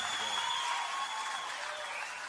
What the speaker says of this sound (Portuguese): Salve de palmas pro verdadeiro Zé Camilo